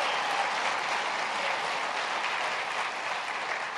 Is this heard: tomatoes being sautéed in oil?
no